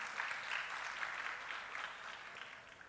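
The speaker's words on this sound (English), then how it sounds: "May we all put our hands together for a warm round of applause for Dr." Audience at a patent and intellectual property workshop giving a round of applause for a speaker, steady faint clapping throughout, fading slightly toward the end.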